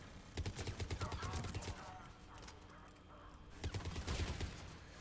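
Gunfire in the video game Mass Effect 3: repeated rapid weapon bursts in two clusters, with a quieter gap between them and a low rumbling underneath.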